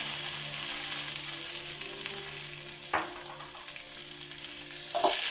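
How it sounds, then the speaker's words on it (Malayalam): Raisins and curry leaves frying in hot oil for a sweet lemon pickle, a steady close sizzle with a few sharp stirring scrapes of a spoon in the pan. "കറിവേപ്പില ഫ്രൈ ആയി നമുക്ക് ഉണക്കമുന്തിരി ഇട്ട് കൊടുക്കാം"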